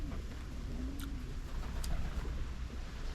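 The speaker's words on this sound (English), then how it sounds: "We got some pigeon on this side." Pigeons coo outdoors in the Bahamas, soft low cooing over steady wind or engine rumble, with a couple of faint higher chirps.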